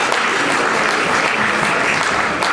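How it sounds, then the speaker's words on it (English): Loud, full applause from a crowd at a corporate anniversary celebration party, honoring an award recipient, with dense continuous clapping that stays steady and close throughout and no voices on top. "a round of applause for Admiralty Fleet Limited"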